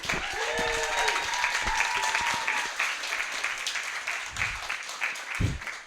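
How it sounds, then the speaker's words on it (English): Applause from the crowd at a cafe open mic night, continuous clapping that thins toward the end, with faint background sounds mixed in. "One more round of applause."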